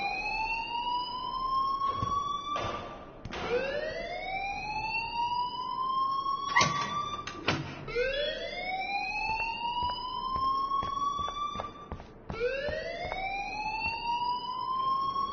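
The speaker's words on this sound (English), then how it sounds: "please turn off that alarm since that's your job" A repeating electronic alarm in the video game Life is Strange, rising whoops that sweep upward again and again in a steady cycle, loud and alone with no talk.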